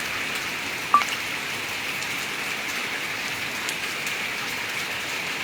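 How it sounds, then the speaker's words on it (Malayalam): Sparse, irregular leftover raindrops patter onto tile and sheet roofs after rain in Kanjirappally, Kerala, over a constant soft wet hiss, with one sharper tap early on. "നേരത്തെ പെയ്തതിൻ്റെ തുള്ളികൾ അവശേഷിച്ചിരിക്കുന്നത് താഴേക്ക് വീഴുന്നുവെന്ന് മാത്രം"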